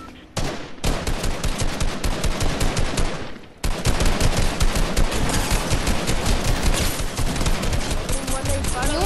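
Loud, rapid video game gunfire rattles in sustained automatic bursts, pausing briefly before another long volley.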